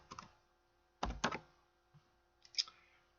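A computer keyboard is typed on in short bursts of close, crisp key clicks separated by brief pauses, quiet and with no talking.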